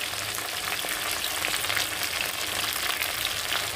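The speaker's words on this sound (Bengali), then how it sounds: "2 মিনিট একটু আমি ভেজে নেব ভেন্ডিটা আলুটা একসঙ্গে" Okra and potato frying together in a pan for an okra-potato curry, giving a steady, dense sizzle that holds evenly from start to finish with no voices.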